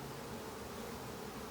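Honey bees buzzing on a hive frame, a continuous dense drone of many insects close by, steady and unbroken for the brief moment.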